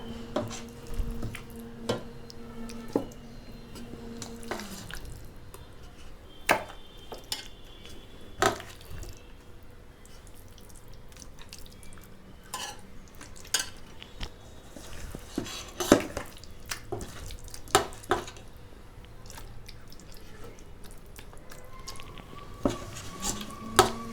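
Chicken dum biryani ingredients being laid into an oiled pot, with scattered clinks, soft squishes and scraping taps of utensil against the vessel, close and irregular, with faint droning tones in the background early on.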